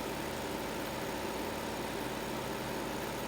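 Steady, continuous hum of an electric motor running in a homemade free-energy generator setup, with a constant even drone and buzz that holds unchanged throughout, close and fairly loud, no voices.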